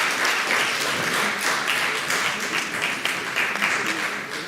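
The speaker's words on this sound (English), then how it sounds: "big clap for them" An international conference audience gives the organizing committee a warm round of clapping, dense and continuous for several seconds with faint voices mixed underneath.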